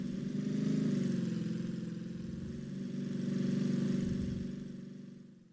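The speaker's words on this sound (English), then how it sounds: "we have procedural audio that scales in pitch with the speed of the car" Procedural car engine audio from a video game traffic system, a low, steady synthetic engine drone whose pitch rises and eases as the car speeds up, alone and fading at the end.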